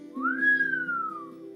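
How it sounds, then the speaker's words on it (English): A person whistles a single sustained note that slides up and then gently falls, clear and close against a quiet low hum. "I whistled."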